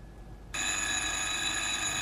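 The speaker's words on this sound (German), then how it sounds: "Im gleichen Augenblick hörte ich aus dem Wohnzimmer das Telefon." A telephone bell in a radio crime drama starts ringing abruptly after half a second of quiet room tone, then rings on continuously from a living room, loud and close, with a bright metallic jangle.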